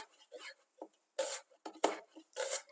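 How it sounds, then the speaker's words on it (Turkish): Knife cutting dried onions into half-moon julienne slices on a board, a handful of short separate rasping chops with small pauses between them, close and fairly quiet. "Kuru soğanlarımızı yarım ay şeklinde jülyen doğruyoruz."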